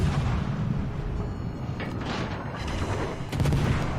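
Naval guns fire in the warship game World of Warships Legends. A dense, continuous rumble of heavy gunfire and blasts carries a few sharper booming salvos near the end, with no talk.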